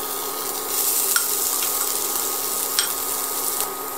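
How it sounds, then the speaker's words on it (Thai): Steady sizzling of curry paste and shrimp paste stir-frying in oil in a pan, with a few light scrapes of a utensil stirring it. "ผัดให้เข้ากันนะคะ ผัดจนกะปิกับพริกแกงมีกลิ่นหอมค่ะ"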